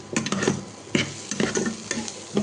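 Egg gravy being stirred in a sizzling pan just after fennel powder goes in, with bursts of scraping stir strokes at a steady rhythm over a continuous close fry.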